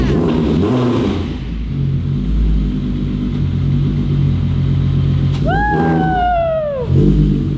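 Car engine in a workshop blipped hard to full throttle, a loud rumbling rev that climbs in a sharp rising whine near the end before dropping back, with no talking over it.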